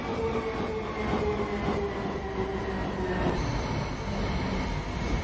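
A train runs in a video game with a continuous rumbling roll and faint rhythmic wheel clatter at a steady level, and no one talks.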